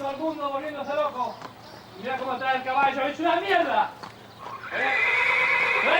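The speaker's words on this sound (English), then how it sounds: "Notice we don't hear the horse make a noise until it's gone out of shot" A horse whinnies repeatedly in a television drama scene, loud and close, with several wavering neighs that rise and fall over talk and a steady background hum before a brighter sustained sound at the end.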